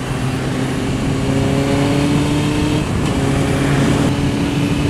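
A Suzuki GSXR 750 motorcycle engine droning steadily while riding, a continuous close buzzing hum with slight pitch shifts and wind noise, no talking.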